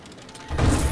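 A wall is smashed in LEGO The Hobbit, a brief mechanical clatter that swells into a loud crashing burst in the second half of the clip.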